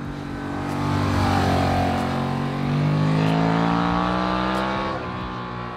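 A Honda XL750 Transalp parallel-twin motorcycle engine revs with its stock exhaust, its note sweeping upward through rising revs, dipping and climbing again in a loud, close run with no voices.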